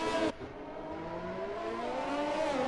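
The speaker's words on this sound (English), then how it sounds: "It sounds like there's a very broken engine going around there." A race car engine misfires while circling the Monaco circuit in a racing video game, a droning, uneven engine tone with wavering pitch that runs steadily after a short louder burst at the start.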